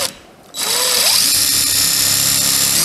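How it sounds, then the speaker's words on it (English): A power drill fitted with a countersink bit spins up sharply after a brief pause and whines steadily as it pre-drills a screw hole in wood, close and loud. "That way the screw is countersunk and also pre-drilled all in one step."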